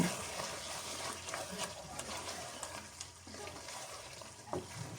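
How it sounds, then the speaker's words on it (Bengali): Chicken pieces stirred and sautéed with soy sauce in a pan for a Kashmiri chicken curry, a steady low sizzle with soft scraping stirs throughout, moderately quiet and continuous, with no talking. "সসগুলো দিয়ে খুব ভালোভাবে নাড়াচাড়া করে রান্না করে নিচ্ছি এই তো কষাতে থাকবো এখন"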